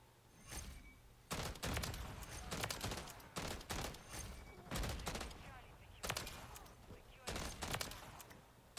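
Bursts of DG-58 rifle fire in Modern Warfare 3, coming in short clustered volleys with brief pauses between them, loud and close throughout a multiplayer match.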